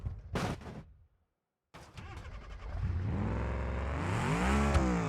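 A car door thuds, then a BMW engine with a damaged exhaust starts and revs up, rough and rattling, the pitch rising steadily, in the video game BeamNG.drive.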